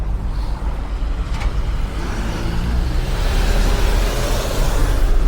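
Steady, loud road traffic rumbles through a city neighborhood, a continuous wash of passing vehicle noise with no voices.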